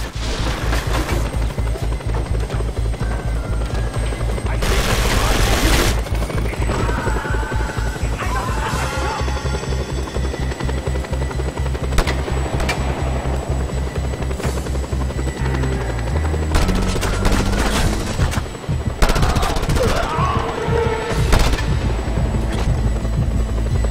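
Just Cause 2 video game combat with a helicopter overhead: a steady rotor thrum underlies repeated loud bursts of gunfire and booming explosions, dense and intense throughout.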